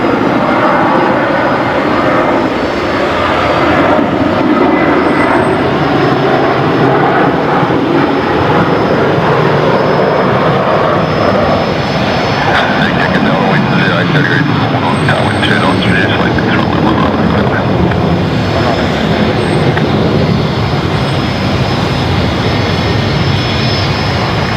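Qantas 633 airliner departing Brisbane Airport for Melbourne, a loud, steady broadband jet roar that holds unbroken across the whole stretch, with faint higher whines riding on top.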